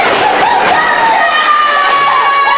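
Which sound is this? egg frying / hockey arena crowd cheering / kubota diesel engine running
hockey arena crowd cheering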